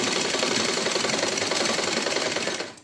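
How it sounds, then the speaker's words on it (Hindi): A sewing machine stitches a blouse lining, its needle running in a fast, steady, close mechanical chatter for nearly three seconds before slowing to a stop. No voices are heard. "वो मैं आपको अभी सिलाई करके दिखाती हूँ"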